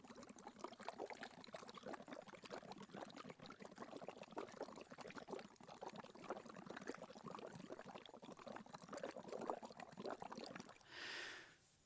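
Breath blown through a tube into phenolphthalein solution in water, making a steady close bubbling, gurgling rush that runs on for several seconds before stopping.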